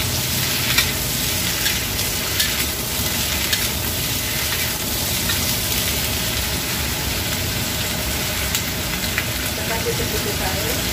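Paprika and onion sizzle loudly and continuously in a hot pan for sweet and sour chicken, with stirring clatter throughout and a voice talking over it.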